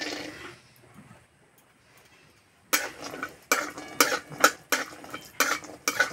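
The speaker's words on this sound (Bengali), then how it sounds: "বাদামটা একটু ভালো করে ভেজে নেব।" Raw peanuts and khesari dal fry in a little oil in a wok. After a quiet start, a spatula scrapes and clanks against the metal in about eight brisk, rhythmic strokes, with a faint sizzle underneath.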